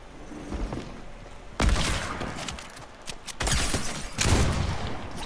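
Shotgun blasts go off in the battle royale game Fortnite, with three or four loud, sharp reports separated by gaps of about a second or more, plus some smaller clatter.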